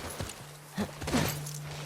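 A few horse hoof clip-clops on hard ground in The Last of Us Part II Remastered, soft and irregular, with a low steady hum underneath.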